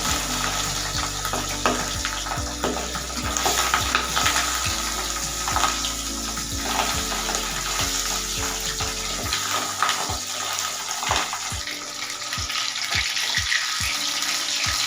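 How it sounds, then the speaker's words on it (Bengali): Pabda fish fry in hot oil in a wok, a loud, steady crackling sizzle with sharp pops and spits running throughout, close and uninterrupted. "এই তেলে মাছ ছাড়ব।"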